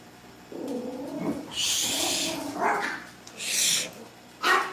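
A dog barks and yelps in the background during a live stream from a reptile and aquatics shop. There are several uneven, moderately loud bursts, with the last one sharp and close.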